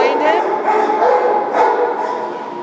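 A dog in an animal shelter kennel gives short, loud, close bow-wow barks and yips with whimpering tones, repeated over a couple of seconds alongside kennel noise.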